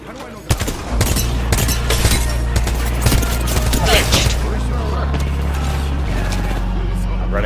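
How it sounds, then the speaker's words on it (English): Rapid gunfire bursts from the video game Apex Legends crackle through most of the stretch, dense and fairly close, with players talking over the shooting throughout. "Oh, they're shooting over there."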